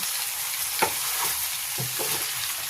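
Mustard greens and pork sizzling steadily in a frying pan, with a few scraping stirs of a spatula breaking through the constant hiss at close range.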